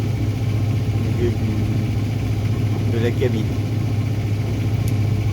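A sailboat motors under engine power in the Bay of Biscay, a steady low engine drone running continuously, with a voice speaking briefly over it.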